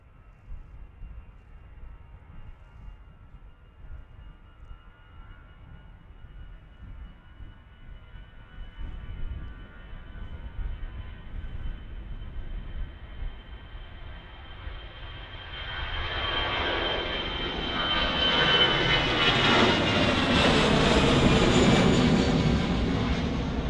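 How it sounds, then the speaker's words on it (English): An easyJet airliner takes off from Manchester Airport bound for Paris on a breezy October evening, its jet roar swelling from a faint distant rumble to a loud broad sweep with no talk. "here's the EasyJet,"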